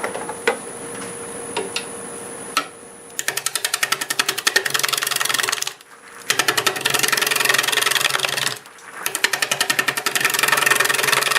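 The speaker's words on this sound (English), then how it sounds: "We'll start with a 5/8 bowl gouge, and we'll just start cutting away and see what we end up with. We're doing about 670 RPM." A 5/8 bowl gouge cuts a spalted birch bowl blank on a wood lathe spinning at about 670 RPM. Loud, rough, rapidly chattering cutting comes in three long bursts separated by short pauses, with no talking.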